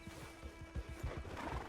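A horse in the Red Dead Redemption 2 video game neighs over a run of rhythmic clip-clopping hooves, the whinny and footfalls close and clear with no speech.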